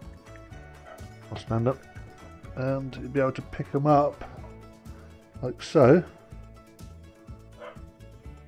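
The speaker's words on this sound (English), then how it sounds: "Sorry about the dog barking." A dog barks in short, repeated bursts and yips in a kitchen during air fryer cooking, moderately close and mixed with a person talking throughout.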